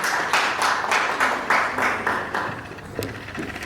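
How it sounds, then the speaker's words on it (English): An audience at an evening book launch claps in a loose, rhythmic burst of applause that fades out after a few seconds, with no voices over it. "A round of applause for memory."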